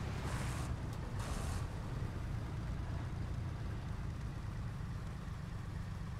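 Enemy T-34 tank engine in War Thunder rumbles steadily throughout, a continuous low idling drone with a faint brief hiss near the start, no talk over it.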